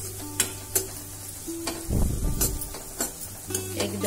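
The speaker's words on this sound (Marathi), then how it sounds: "एक 2-3 मिनिट परतवूया।" Kantola vegetable being sautéed with turmeric, asafoetida and spices in a pan, a soft steady sizzle with the spoon tapping and scraping in regular strokes and one fuller stir about halfway through.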